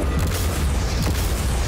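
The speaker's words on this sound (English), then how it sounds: "The cannons were melting through his defense like butter." Cannon fire strikes a yacht in a video game, a loud, dense rumbling boom with crackling impacts that holds steady across the short burst.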